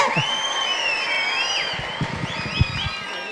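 A studio audience at a Tamil television show applauds, with dense clapping and a few cheers running steadily throughout, while whistling melodic tones, likely music, sit over the crowd noise.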